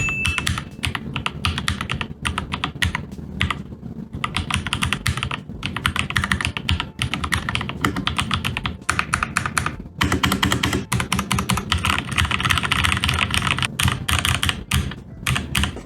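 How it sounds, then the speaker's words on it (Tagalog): Rapid typing on a Keychron K2 wireless keyboard fitted with Gateron Brown switches, dense close clacking keystrokes in continuous bursts with brief pauses, loud and alone. "This is K2 Gateron brown switch."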